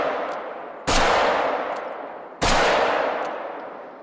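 Two loud, close pistol shots from the hunting video game theHunter: Call of the Wild, about a second and a half apart, each a sharp crack followed by a long echoing decay into the open landscape.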